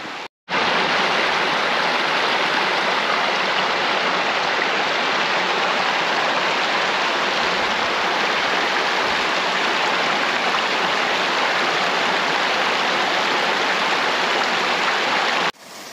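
A stream runs beside a hiking trail in a German valley, a steady, full rushing of water that holds evenly for the whole stretch with no voices, starting and stopping abruptly.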